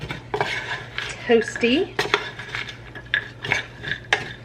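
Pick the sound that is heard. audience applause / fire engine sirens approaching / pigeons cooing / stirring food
stirring food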